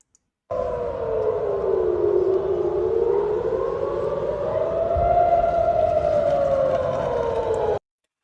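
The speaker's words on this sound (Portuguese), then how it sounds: "Dá para ver a sirene de defesa antiaérea" A civil defense air raid siren in central Tel Aviv wails steadily, its pitch slowly rising and falling over several seconds in a long, loud, continuous tone.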